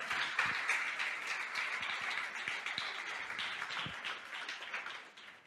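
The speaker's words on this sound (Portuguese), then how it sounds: "você pode aplaudir o nome do Senhor?" A church congregation applauding, a sustained wash of many hands clapping at moderate distance, steady and then tapering off near the end, with no clear voices over it.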